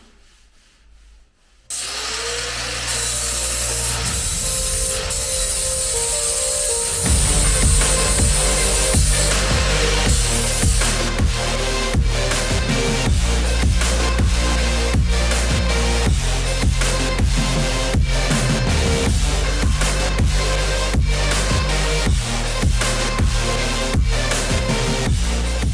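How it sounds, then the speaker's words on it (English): A drill grinds into a stubborn old Honda bolt on an EG Civic, a loud, continuous harsh whine and rasp that starts after a brief quiet moment and keeps going steadily with small fluctuations. "We literally can't get this drilled out."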